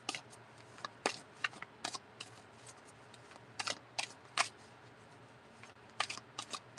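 Tarot cards are shuffled by hand, giving soft, irregular flicks and riffling snaps, quiet and close with no talking.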